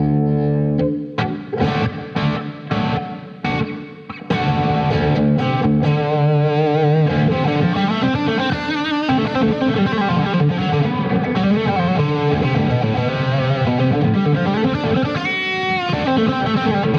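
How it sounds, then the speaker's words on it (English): An overdriven electric guitar plays through a Blackstar St. James 100 tube amp with reverb. A few loud, choppy chords open into sustained, distorted riffs that ring on steadily and loudly throughout, with no talking. "This reverb is slightly different on this channel to suit the kind of more overdrive or overdriven"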